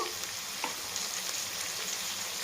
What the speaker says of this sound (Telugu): ఇది కొంచెం వేగేంత వరకు వేయించేసుకున్నాము